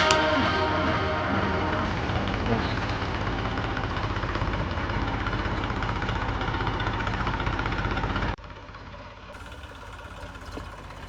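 A tractor engine idles steadily close by with a low, even rumble, then drops abruptly to a quieter hum near the end.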